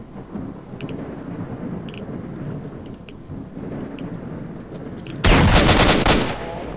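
A loud burst of gunfire erupts in S.T.A.L.K.E.R. Shadow of Chernobyl after quiet ambient noise, a sudden close blast lasting about a second before tailing off.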